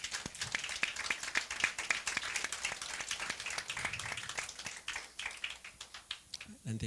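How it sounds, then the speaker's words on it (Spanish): Church congregation clapping for the Lord at a Bible institute graduates' gathering; distinct, rhythmic claps from a modest group, fairly faint, with voices mixed in. "podemos darle un aplauso al Señor"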